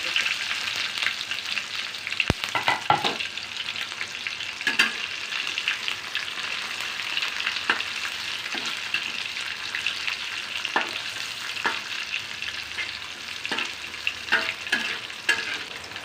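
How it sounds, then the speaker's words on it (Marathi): Crushed garlic and green chillies sizzle and crackle in hot oil for a village-style dill leaf bhaji, a steady close frying hiss with occasional sharp pops and stirring clinks, no voices. "आपलं तेल गरम झालेलं आहे तर आता त्याच्यामध्ये मी लसूण मिरची टाक"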